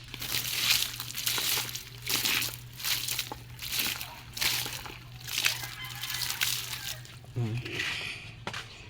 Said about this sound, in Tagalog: Patangan sana og tubig guys aron nga ma bisbisan sana og tubig ta guys